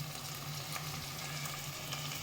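Tomato and spices frying together in a pan for Bengali cauliflower paneer, a steady soft sizzle with low hiss throughout, no voices.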